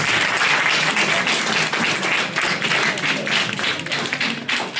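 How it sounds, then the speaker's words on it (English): An audience applauds a visiting Nepali film team at a college event, loud dense clapping sustained throughout without pause. "let's welcome all of them and give a round of applause"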